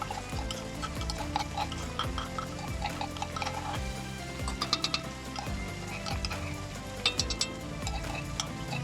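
Chicken fully fried in mustard oil with garlic and ginger paste added, sizzling steadily in the pan with rhythmic stirring scrapes and clinks of a spoon throughout.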